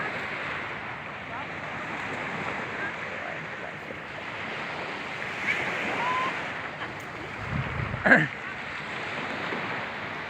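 Sea waves washing onto a shore on a morning beach, a soft continuous surf rush with wind noise on the microphone and a brief louder bump near the end.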